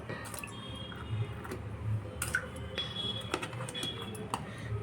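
Cut bitter gourd pieces are tipped into a pan for a garlic chili bitter gourd dish, giving a soft clatter with a few sharp metallic clinks over a low, steady kitchen background.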